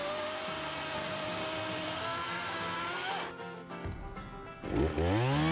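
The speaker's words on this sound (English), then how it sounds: "Next, we did a time test through a 10-inch diameter log with each saw." DeWalt 60V FlexVolt electric chainsaw cutting through a 10-inch diameter log, a loud steady high whine with strained, bogging tones as the chain works the wood, then the motor spins back up near the end.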